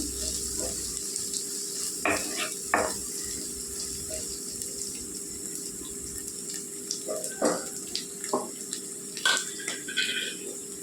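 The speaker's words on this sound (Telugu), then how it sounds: "కొద్దిగా వేగితే సరిపోద్దండి కారం" Chilli powder fries in oil for a curry, a soft, even sizzle underneath intermittent scraping and tapping of a spoon against the pan, all fairly quiet.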